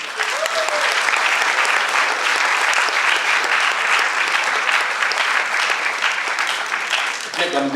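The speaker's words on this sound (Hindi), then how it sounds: "जोरदार तालियां।" Loud, sustained applause from a theatre audience for the cast and director of a stage play, a dense steady roar of many hands clapping that fills the whole stretch without a break.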